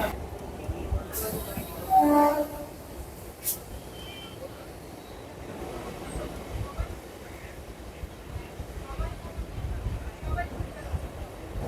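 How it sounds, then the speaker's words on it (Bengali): Low, continuous rumble of a moving train near Baruipara station outside Kolkata, with rhythmic rattling, a brief hiss near the start, and talk heard faintly over it. "বলতে না বলতেই ট্রেন ছেড়ে দিয়েছে"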